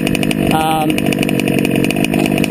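A TLR 5B gas RC car with an OBR 34SS reed two-stroke engine running on 32:1 fuel, a loud, close, buzzing high-revving drone with a brief rev rise, continuous throughout.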